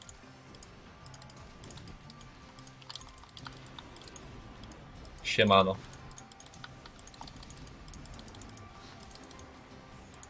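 A cheap German-layout computer keyboard is typed on continuously with rapid, uneven clicks close to the mic, while a person speaks briefly in the middle.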